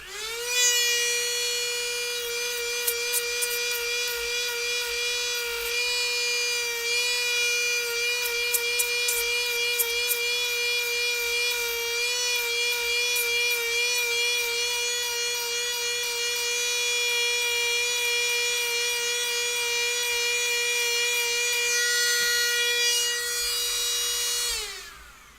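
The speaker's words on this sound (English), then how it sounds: "take a little bit of a rotary tool, grind that down" A rotary tool grinds down a costume part, giving a continuous high whining buzz that holds steady for about twenty-five seconds with slight pitch wavers, loud and close, before cutting off.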